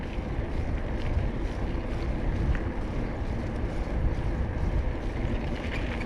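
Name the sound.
wind blowing on camera while cycling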